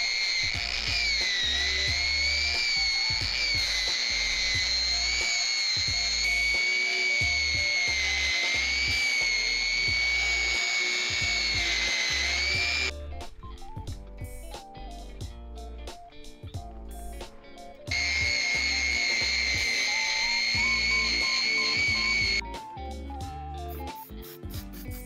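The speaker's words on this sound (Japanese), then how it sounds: "400番の次にフェルトに赤棒をつけて磨くよ。" A felt buffing wheel loaded with red compound polishes a cast aluminium piece, producing a loud, high, steady whine with some wavering pitch that drops away twice as the tool stops and restarts.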